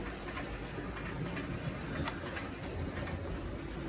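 An Italian Rivarossi 12-volt electric model locomotive runs around its track, giving a steady, dense whirring rumble that holds at an even level throughout, with no voices.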